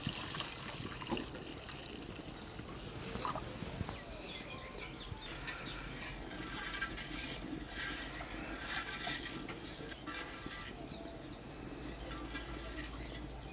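Water pours steadily and splashes into a pot for upma, a continuous close trickle and gurgle lasting throughout, with faint birds in the background.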